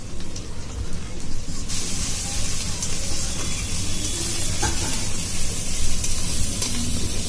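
Ground spices, including turmeric and chili powder, fry in a pan for chicken curry, giving a loud, continuous sizzle with crackles and occasional stirring scrapes throughout.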